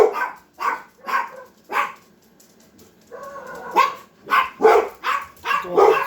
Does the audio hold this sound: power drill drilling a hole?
no